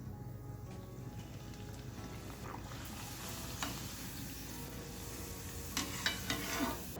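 Nachni (finger millet) kurvadi fries in a pan over low heat, a soft, steady sizzle with occasional stirring scrapes and clinks near the end, faint and close, with no one speaking.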